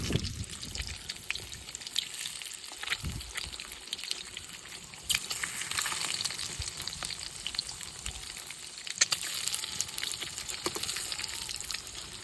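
Eggs frying in a pan, a steady close sizzle and crackle with occasional spatters and light stirring, fairly quiet and continuous with no one talking.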